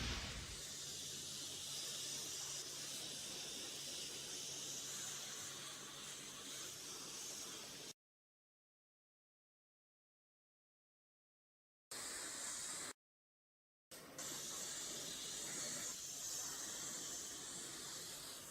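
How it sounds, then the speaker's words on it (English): A steady hiss of alkaline pre-cleaner spraying from the nozzle of a SOLO CLEANLine 360B electric pump sprayer onto a car, broken by a few short pauses before it resumes. "Press the button, spray it on, add the alkaline pre-cleaner."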